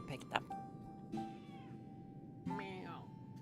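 A pet cat meows a few times at close range, with clear tonal cries standing out over a person talking and faint game background sound.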